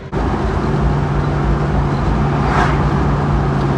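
Steady road and engine rumble heard from inside a car working through traffic on the way to Mooresville drag strip, a constant loud drone with a tonal hum throughout and a brief brighter swell midway.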